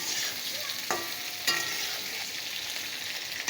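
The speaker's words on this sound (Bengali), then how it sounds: "পটল, কুমড়ো, লাল আলু আর আলু দিয়ে এগুলো একটু ভালো করে ভাজা করে নেব" Pointed gourd, pumpkin and potatoes frying in a pan without salt, a steady hiss with a couple of sharp stirring scrapes, close and moderately loud, no talking.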